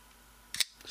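A ball bearing flipper knife with a steel-inserted titanium frame lock snaps open in one sharp, quick metallic click, close and alone in a quiet room.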